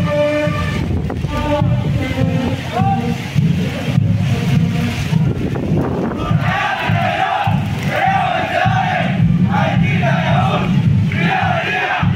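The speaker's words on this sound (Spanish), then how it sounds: "con ese grito de guerra" Students of an Adventist school in a marching parade shout a loud crowd battle cry together, with rising chanted voices in bursts over a dense, busy background of noise.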